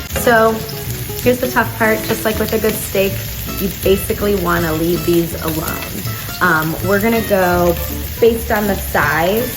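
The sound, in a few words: scallops searing in hot oil in a pan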